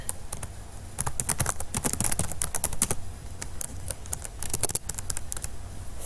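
Rapid, irregular clatter of a computer keyboard being typed on, close and fairly loud, with short bursts of keystrokes and brief pauses, no voices.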